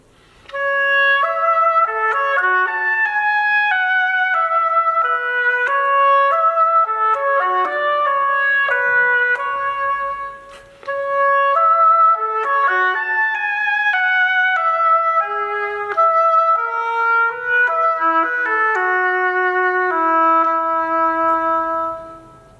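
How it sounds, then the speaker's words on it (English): An oboe plays a melodic solo line of clear, reedy notes with a bright, nasal tone, moving through a series of pitches. There is a brief breath pause near the middle, then the tune continues and ends on a lower held note. No voice or other sound accompanies it. "I play the oboe"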